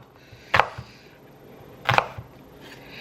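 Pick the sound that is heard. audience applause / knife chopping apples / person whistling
knife chopping apples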